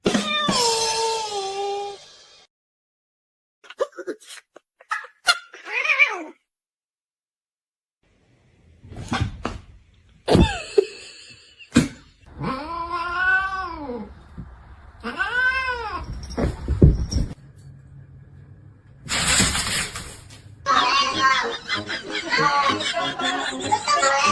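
A cat gives a string of loud, wavering meows and drawn-out caterwauls, broken by silent gaps, with clattering knocks and a person talking softly in between.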